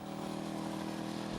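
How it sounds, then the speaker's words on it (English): A Caponord motorcycle's V-twin engine runs with a steady, throbbing drone, close and fairly loud, alone without talk. "It is that engine, the mighty V-twin. The sound of it bouncing off walls and cars around you"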